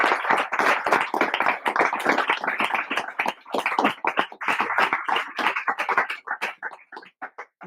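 Audience applause closing a book presentation for the novel 'Una mujer furiosa', a dense run of hand claps from a room of listeners that holds steady, then thins to a few scattered claps at the end.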